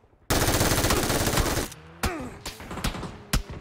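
Machine gun fire in a video game: a loud, sustained automatic burst runs for over a second, then scattered single shots and short bursts follow at a distance. No one speaks.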